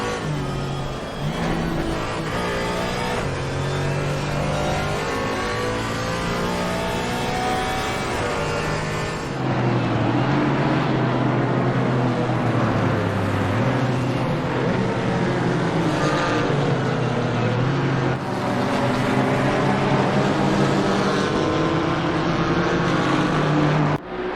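A Porsche GT4 race car engine at night in Hungary, racing in a video game, droning loud and steady with rising and falling revs and shifts, a sustained harmonic engine note with no talk.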